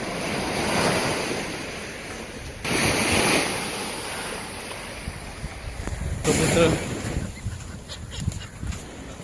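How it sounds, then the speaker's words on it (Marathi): Sea waves surge against cement blocks at Dadar Chowpatty, Mumbai, a loud continuous surf roar with heavier swells rising twice, wind noise on the microphone and a brief voice. "ते लाटा वगैरे समुद्राचे येत आहे"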